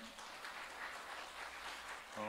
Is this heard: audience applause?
yes